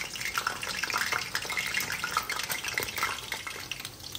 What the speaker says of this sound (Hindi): चलिए अभी समोसे भी फ्राई कर लेते हैं